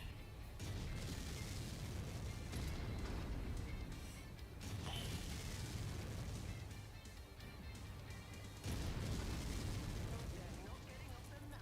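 Heavy rumbling blasts and crashing booms from bombing in the MechWarrior 5 mech combat game, sustained and dense across the stretch with brief dips between bursts, fairly quiet overall.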